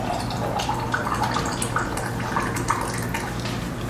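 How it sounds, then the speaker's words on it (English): Homemade pasta sauce is scooped with a measuring cup and poured into canning jars, giving soft continuous liquid splashes and drips over a low steady hum. "I'm just going to use my measuring cup to scoop this out and pour it in."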